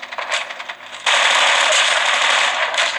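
Gunfire in Call of Duty Mobile: a scatter of quick shots leads into a dense, sustained automatic burst, close and loud with a metallic rattle.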